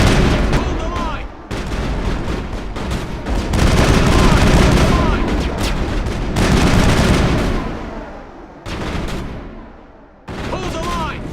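Heavy gunfire in a video game firefight, dense bursts of automatic shots and booming blasts rolling loud and close in waves, breaking off briefly between volleys, with shouted voices mixed in.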